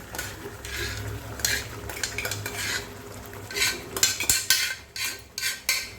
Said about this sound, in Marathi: मसाल्यात डाळ टाकल्यानंतर आपल्याला ते थोडी परतून घ्यायची आहे